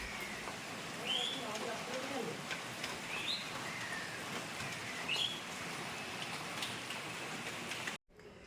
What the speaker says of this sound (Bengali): দেখো বৃষ্টি হচ্ছে আওয়াজ শুনতে পাচ্ছ আশা করি